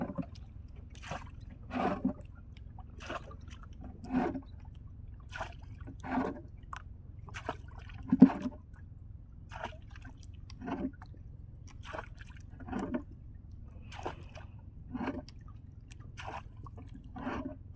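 Water being bailed out of a flooded fishing spot, with repeated soft splashes and wet squishing scoops at a steady, uneven rhythm, close and fairly quiet over a low background.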